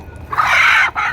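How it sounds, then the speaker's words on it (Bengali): A single loud, close tiger chicken call sounds inside a farm shed, a rising drawn-out squawk lasting under a second, with quieter clucking and faint farm noise around it. "আমার মুরগি"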